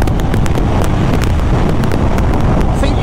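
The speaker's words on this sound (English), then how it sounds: "So that wind, yeah, it hits you right across here, upwards." Steady wind roar buffets a rider on a Zero electric motorcycle. The rush is loud and continuous, with gusty low rumble throughout and no engine note above it.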